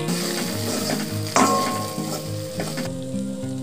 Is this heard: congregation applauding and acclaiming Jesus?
no